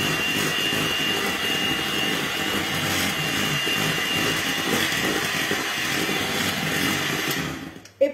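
A kitchen mixer runs steadily at its lowest speed, mixing batter for a potato and lardon gratin, a close, even whirring drone that holds throughout and then cuts off abruptly at the end.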